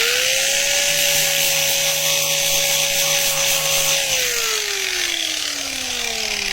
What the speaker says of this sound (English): I'm using an angle grinder with a flap disc. I think it's a 60 grit.